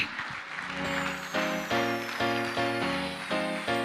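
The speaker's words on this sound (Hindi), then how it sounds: "मुझे लगा तालियां जो हैं अपने आप बजती रहेंगी" An audience claps steadily through a second-anniversary celebration for Team Sonu Sharma. The applause is a dense, sustained patter blended with loud, rhythmic keyboard music, and no voices are heard.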